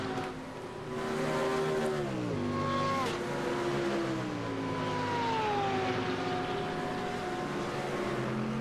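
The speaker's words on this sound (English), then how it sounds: "Oh, that's a Porsche right there. It just sounds completely different than those two Mustangs up front." A Porsche GT3 race car engine in a racing video game at Suzuka howls with a high, smooth, moderately distant tone, dropping in pitch through several gear changes and shifts, then easing back up.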